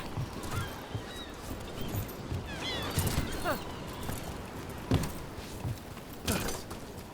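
Geese honk in the video game Dragon Age: The Veilguard, several calls scattered over a steady outdoor ambience with soft clip-clop-like steps, mid-distance, while voices talk.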